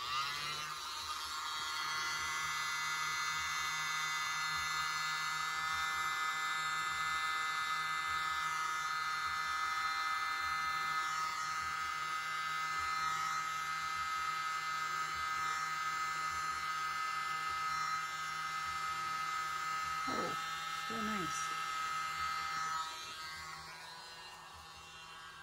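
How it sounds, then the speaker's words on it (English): A small electric mini blower pushes fluid acrylic paint, including oxide black thinned with Floetrol, across a surface, a steady high-pitched whirring drone that runs for over twenty seconds before easing off near the end. "Here's my mini blower."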